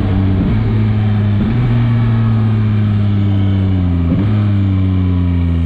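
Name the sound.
Yamaha MT-09 motorcycle engine accelerating on its own without throttle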